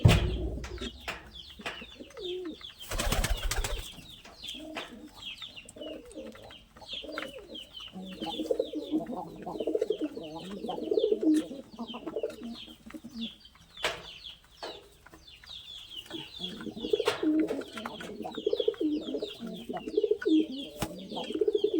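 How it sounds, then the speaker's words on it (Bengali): Pigeons coo repeatedly in low, throaty bursts, with occasional wing flaps and scuffling as two pigeons squabble over food nearby; a loud flutter breaks out early on. "দেখেন দুটা কবুতর কীভাবে ঝগড়া লাগছে"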